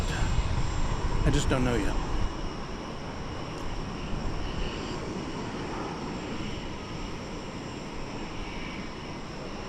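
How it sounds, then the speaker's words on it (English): An Alaska Airlines Boeing 737 MAX 8 or 9 jet drones steadily in the background, a broad, sustained engine rumble with a brief voice near the start and quieter talk over the rest. "So Alaska Airlines is a MAX 8 or 9."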